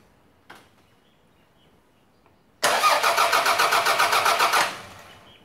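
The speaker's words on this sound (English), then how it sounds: "So we're going to crank the engine and see what we get." A car's starter motor cranks the engine during a starter circuit test: after near silence and a faint click, about two seconds of loud, rhythmic whirring with even pulses, then a fade without the engine catching.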